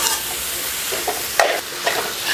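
Onions for potato bonda sauté in a pan with a soft continuous sizzle and a few scraping stirs, close and steady with no voices.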